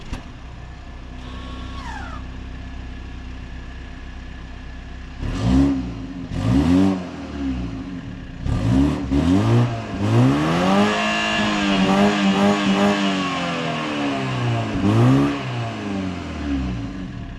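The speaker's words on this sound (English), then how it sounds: "Now let's hear how this hybrid BMW sounds like." A 2022 BMW 330e plug-in hybrid with a B48 engine revs loudly, with several rising and falling sweeps close by.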